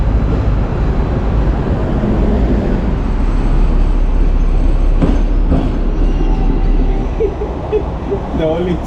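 A Hong Kong tram carrying only a couple of passengers rumbles along its track with a steady rolling drone and faint rail clatter, close and continuous, with a few soft sounds near the end.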